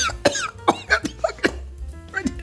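A person coughs repeatedly and clears their throat after inhaling citric acid powder while seasoning grapefruit, lime and lemon pepper wings: close, harsh bursts in an uneven rhythm.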